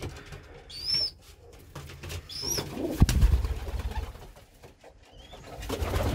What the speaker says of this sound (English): Beautiful little pigeon, this one.